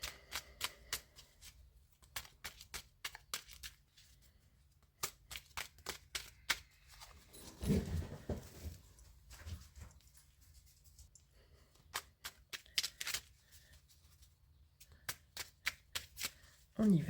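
Tarot cards being shuffled and drawn during a love reading, a long run of crisp riffling and slapping card sounds in quick bursts, with a soft voice talking in the background in places.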